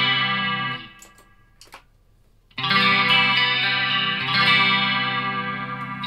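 Zoom MS-50G+ multi-effects pedal running electric guitar through chorus and distortion: loud, thick sustained chords ring out, break for a second of quiet picking, then return strongly for the rest.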